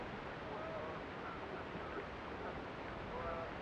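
Wind rushes across a lake during a fall musky fishing trip at Cave Run, a steady broadband roar with faint water lapping and a hint of voices underneath.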